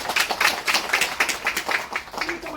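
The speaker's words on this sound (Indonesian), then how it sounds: "Tepuk tangan dulu." At a Maluku community gathering, a modest group of people claps in quick, uneven bursts, fairly close and lively, for a couple of seconds.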